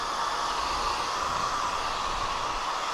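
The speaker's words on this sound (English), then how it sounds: "I've never heard a hairdryer this loud" A loud 1800W foldable hair dryer blows on its cold setting in a steady, unbroken roar of rushing air, close up and constant throughout.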